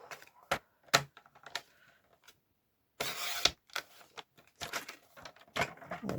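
Paper being cut for a 15 x 15 cm scrapbook album, sharp isolated snips and crisp rustles in irregular bursts separated by brief quiet pauses, close by and without talk.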